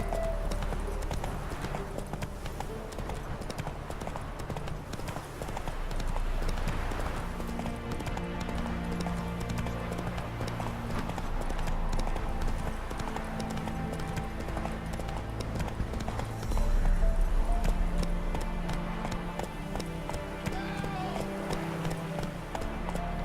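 Galloping horse hooves in The Witcher 3 game, a steady clip-clop rhythm running throughout over a dense orchestral score and battle ambience, with occasional horse snorts.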